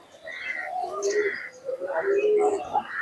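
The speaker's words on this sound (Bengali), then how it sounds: "খুবই সুন্দর কোয়ালিটির কবুতর" Teddy pigeons cooing close by in soft, throaty bursts, with faint chirps and a bit of background voice mixed in.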